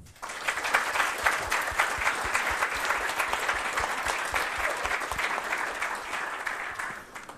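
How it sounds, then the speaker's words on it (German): A room of listeners at a youth hackathon's closing presentations in Rostock gives warm applause, dense even clapping that swells quickly and holds steady for several seconds before tapering off, with no talking over it. "danke ich euch auf jeden Fall für eure Einblicke und nochmal einen herzlichen Applaus"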